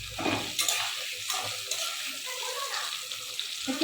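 Potatoes frying in hot oil in a pan for a Bengali fish dish, a steady close sizzle with occasional stirring scrapes, no talk.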